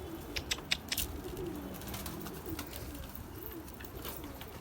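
A pigeon coos softly in low, rolling murmurs, with a few sharp clicks and rustles nearby over a quiet background.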